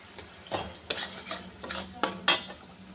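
A spoon scrapes and stirs spice paste with green chilli, turmeric and salt frying in a pan for hilsa curry. Four distinct stirring scrapes sound over a faint, steady sizzle, with no talk.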